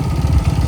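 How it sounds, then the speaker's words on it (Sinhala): A modified mini motorcycle with a 160 racing engine runs close by at a mini moto festival, a loud, rough, steady engine drone over the whole short moment with no talk. "මම හිතන්නේ මේකේ එන්ජින් එක 160 රේසින් එන්ජින් එකක් තියෙන්නේ."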